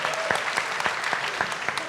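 Audience applause for a psychologist guest on a talk show, dense steady clapping that holds for the whole stretch at moderate loudness.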